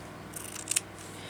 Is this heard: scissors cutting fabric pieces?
yes